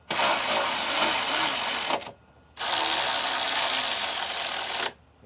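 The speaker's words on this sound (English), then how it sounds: "I'm gonna run them down with my tool." Power tool running bolts down on a Mercedes/Dodge Sprinter van, a loud steady mechanical whirr in two long bursts separated by a short pause, with no talk.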